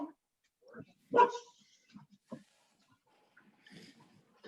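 A pet dog barks excitedly indoors at home, a few sharp separate woofs with short gaps and softer yips between them, fairly near and heard over quiet room sound.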